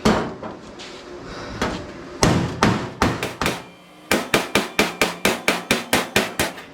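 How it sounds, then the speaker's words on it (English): Rapid hammer blows on sheet metal backed by a dolly, first irregular then a steady rhythm of about a dozen sharp ringing strikes, close and loud. "Hammer this into the dolly"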